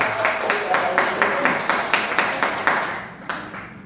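Audience applause for Bu Herlina at SDN 1 Mekarsari, a small group clapping in a fairly even rhythm of distinct claps for a few seconds before tapering off.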